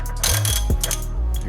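Metal mechanism clicking and grinding as a sensor is unscrewed from a Honda S2000 VTEC solenoid clamped in a bench vise, close and fairly loud with a few sharp ratcheting bursts.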